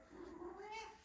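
Cat meowing as it is let out of a room during a yoga class, a faint, drawn-out rising and falling meow close by with a quiet room behind it.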